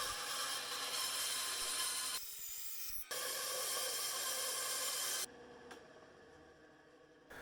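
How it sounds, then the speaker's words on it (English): A steady, loud saw cut hisses through wood, pausing briefly twice and dropping in level for the final couple of seconds. "And we'll cut it out on the bandsaw."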